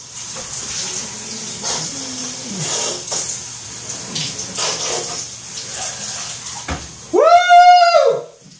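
Water from a shower runs steadily throughout, with a louder, brighter gush near the end as the spray shifts closer.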